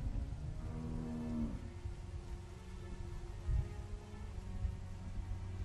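Cow mooing in a barn at a dairy farm in The Walking Dead video game, a single long low moo near the start, heard alone over a steady background hum with a couple of soft thumps afterward.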